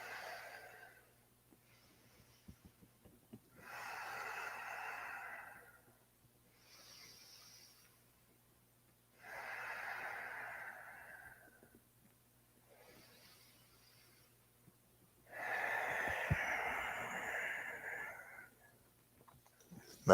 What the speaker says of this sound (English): a couple more deep breaths.